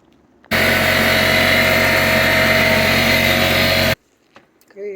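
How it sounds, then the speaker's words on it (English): An air compressor runs loud and steady at close range for about three and a half seconds while filling to pressure for a water heater expansion tank, then cuts off abruptly into near silence. "Okay, our compressor is up to pressure."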